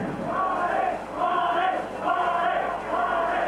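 A stadium crowd at the 1964 European Championship final between Spain and the USSR applauds and cheers in swelling waves as an injured player returns to the pitch, a steady distant roar rising and falling.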